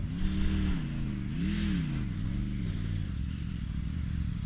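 A heavy motorcycle picks its way over loose rock and boulders, engine revving up and down in wavering swells with a constant gritty rumble, heard close and loud without speech.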